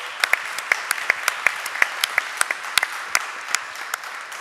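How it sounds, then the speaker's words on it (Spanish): A small group claps during a Spanish comics talk, with distinct individual hand claps ringing out in an uneven rhythm, close and crisp over a quiet background. "un aplauso enorme"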